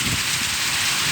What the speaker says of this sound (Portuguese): Hoje é uma tarde de muita água, né? Muita chuva, né?